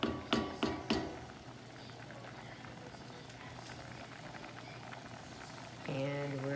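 A pot of Mediterranean rice boiling on the stove, a soft steady bubbling and simmering hiss, faint and close, preceded by a few sharp knocks of a spoon against the pot and ending with a brief louder scrape.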